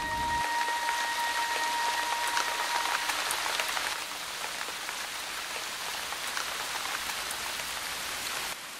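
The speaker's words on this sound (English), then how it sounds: "A sound not heard for over a year. Rain on hot rocks." Steady rain patters down on hot, sun-baked rocks after a long drought in Brazil's dry plains, a dense, close hiss of drops that carries on unbroken for the whole stretch with no voices.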